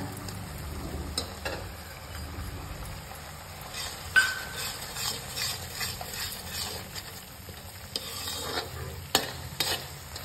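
Homemade onion masala frying for a mutton curry, with a low steady sizzle and scattered stirring clicks and scrapes. There is no talking.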